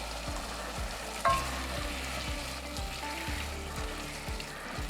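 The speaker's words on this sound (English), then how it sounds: "our onions are nicely sauteed, tomatoes are sauteed, got your garlic in there" Onions, tomatoes and garlic sauté in a pan for a lasagna sauce with wine, giving a steady close sizzle with regular scraping stirs and no talk.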